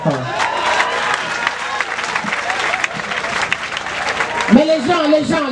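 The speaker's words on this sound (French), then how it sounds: "d'applaudir pour les femmes." Crowd at a 2018 opening rally in Angondjé applauding for the women, steady loud clapping mixed with cheers, with a voice breaking in over it near the end.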